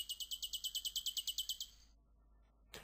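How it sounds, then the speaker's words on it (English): A bird sings a quick, evenly spaced series of about fourteen bright chirps, heard alone as a soloed track in a music mix, followed by near silence and a short noise at the end. "we'll be able to hear what the bird song sounds like"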